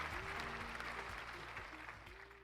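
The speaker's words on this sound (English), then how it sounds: "Let's give her a round of applause." Audience applause welcoming a guest at the start of a live recorded show, continuous clapping that fades slightly toward the end, with faint voices mixed in.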